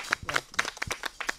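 Audience members clap for a bandleader's new album in a sparse, quick burst of handclaps, fairly close and moderately loud, with no talking over them.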